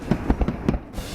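Fourth of July fireworks: a rapid series of sharp booming bursts, several in about a second, loud and fairly close.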